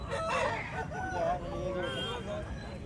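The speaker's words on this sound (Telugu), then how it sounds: "ఇక్కడికి వచ్చింది ఇది ఒక పుంజండి." A rooster at a poultry market crows in a drawn-out, wavering call, with other fowl clucking nearby and a low murmur of market noise underneath.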